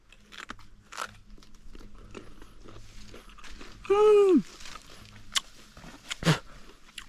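Someone bites into a crunchy Malay apple and chews, giving close crisp crunches and moist chewing noises, with a brief tonal sound partway through.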